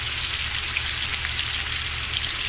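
Jack fillets fry in a pan on an unlevel camp burner outdoors, a steady close and loud sizzle with a low burner hum beneath, unbroken and with no talking.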